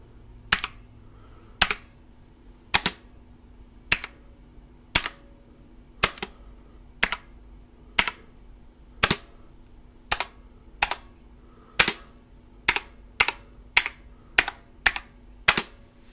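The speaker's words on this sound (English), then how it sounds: "we only click the space bar three times, we click other keys the other time" Computer keyboard keys and the space bar are clicked one at a time, about seventeen sharp, close taps at a loose, uneven pace over a quiet background, with no talking.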